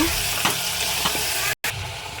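Mutton sautéing with salt in a pan gives a steady hiss of frying, broken by a few scraping strokes of a spatula and a brief cut-out near the end.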